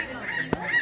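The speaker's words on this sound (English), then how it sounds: "It's an eagle." Eagle calling at a birds of prey conservatory and zoo, a harsh honking cry with one sharp burst standing out against a steady outdoor background.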